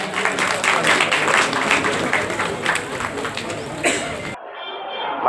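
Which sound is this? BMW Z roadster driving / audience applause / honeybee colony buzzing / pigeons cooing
audience applause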